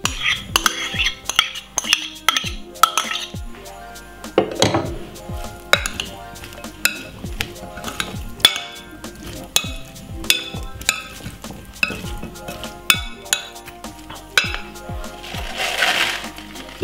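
Utensils scraping leftover cooked green beans in a kitchen, with repeated sharp clinks and scrapes of metal on a dish in an uneven rhythm, close and fairly loud.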